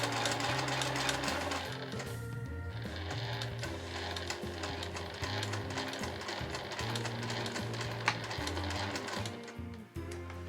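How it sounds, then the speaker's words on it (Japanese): A sewing machine stitches close to the edge of the turning opening on a small patchwork pouch made from fabric scraps, running steadily and loudly for the whole span with brief pauses and speed changes. "そしたらこの返し口の際を縫います。"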